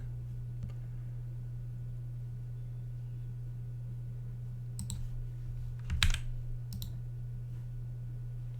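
Faint computer mouse clicks, a few isolated taps near the end over a steady low electrical hum, with no talking.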